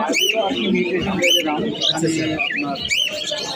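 Caged lovebirds at a bird market give sharp repeated chirps and calls close by, mixed with a steady busy crowd murmur.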